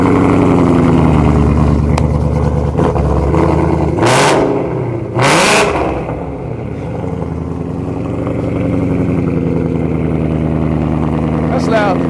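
A 1000 bhp Whipple supercharged V8 Ford Mustang GT sits at a loud, raspy, burbling idle, then blips its throttle twice in sharp revs before settling back to idle, close up, while people talk over it.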